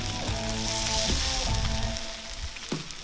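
Bacon sizzling over a fire pit, a close steady crackle and hiss with a few stirring scrapes, fading slightly toward the end, with no voices.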